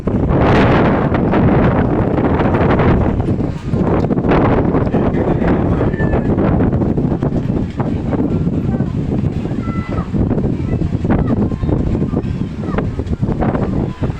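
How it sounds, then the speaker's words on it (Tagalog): Strong wind buffets the microphone in continuous loud gusts, with surf and waves churning underneath and occasional faint voices. "malakas lang po talaga yung hangin"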